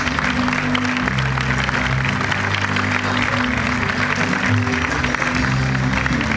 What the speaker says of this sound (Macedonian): Дајте аплауз!